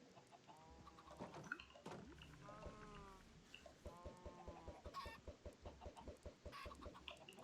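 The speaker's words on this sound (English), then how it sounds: "Two more bonus chickens." Chickens cluck in the video game Minecraft, several birds giving repeated close clucks and squawks, ending in a rapid rhythmic series of short clucks.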